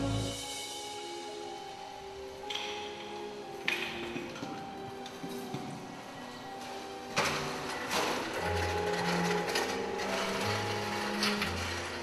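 A Kimsey electric water pump for flood fighting runs steadily, its motor whirring with a mechanical hum and faint rattles and clinks, without speech.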